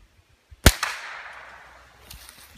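One sharp crack from a Ruger 10/22 rifle fired at a target about 75 yards away, with a single faint follow-up pop and a long fading echo across open ground.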